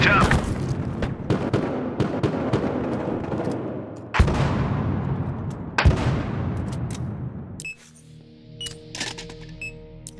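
Rapid gunfire crackles through a Battlefield Hardline firefight, dense overlapping shots with sharp louder bursts, then the shooting stops and the clip ends in quieter tonal game sounds.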